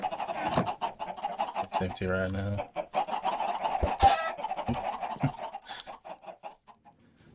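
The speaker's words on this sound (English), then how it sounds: "I got some chickens, which are really noisy." Several chickens in Minecraft cluck and squawk in quick, overlapping bursts, close and busy, while a person speaks briefly over them.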